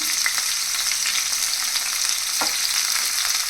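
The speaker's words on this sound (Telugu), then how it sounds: "ఈ ఉల్లిపాయ పచ్చిమిరపకాయ తరుగు వేసేసుకొని గోల్డెన్ బ్రౌన్ కలర్ వచ్చే వరకు ఫ్రై చేసుకోవాలి" Chopped onion and green chillies fry in hot oil with a dense, even sizzle and a few faint stirring scrapes, close and steady throughout.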